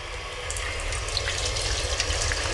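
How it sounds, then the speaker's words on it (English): Squid rinsed under a running kitchen tap, a steady close splashing hiss of water with no talk. "And just rinse off the outside, and fill it out with water and get all the gunk out."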